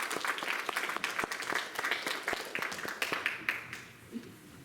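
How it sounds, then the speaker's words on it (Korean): Church audience applause welcoming a pastor to the stage, dense steady clapping from a crowd that carries on for several seconds and then thins out toward the end. "우리 목사님 나오실 때 큰 박수로 환영해 주시기 바라겠습니다"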